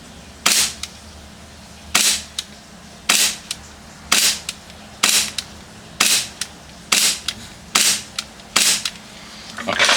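Ten sharp snapping shots from an airsoft gun, each a crisp crack spaced about a second apart in a steady rhythm, close and fairly loud in an otherwise quiet room.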